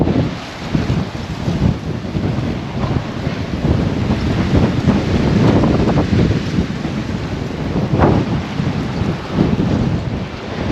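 Strong coastal wind at Albany near a lighthouse buffets the microphone in loud, surging gusts with deep rumbling bursts, sustained throughout and with no talking.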